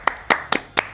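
Four sparse, polite golf claps ring out in an even rhythm, close and clean, played as a sound effect on a breakfast livestream with no talking over them.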